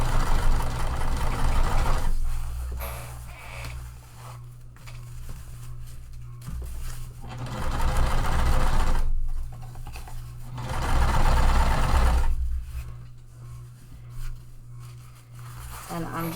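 A sewing machine stitching a seam in waterproof canvas for a pool tote, running in several bursts of steady mechanical whirring separated by pauses, with a voice talking over and between the runs.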